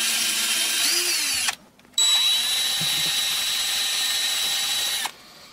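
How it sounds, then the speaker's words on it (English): A power drill whirs loudly in two long bursts with a short pause between, its motor pitch shifting slightly as it bites in. "Try to drill as straight as possible."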